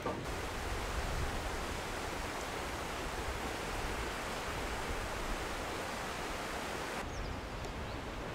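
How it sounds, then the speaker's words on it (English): Glacial waterfall at Staubbach Falls in Lauterbrunnen, Switzerland, a steady roar of rushing water pouring down inside a mountain, loud, dense and unbroken throughout, with no voices. "Staubbach Falls are a series of 10 glacial waterfalls inside a mountain."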